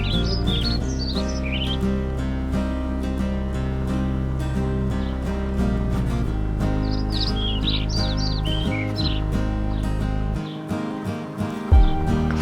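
Small backyard coop birds such as quail chirp and tweet in quick high bursts over a steady bed of music, the calls close and clear, clustered early and again midway.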